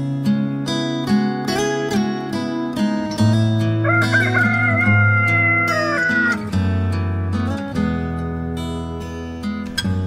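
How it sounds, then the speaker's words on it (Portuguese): A rooster crows once, its call rising and holding in the middle of the passage over steady, prominent music. "o galo canta a terceira vez"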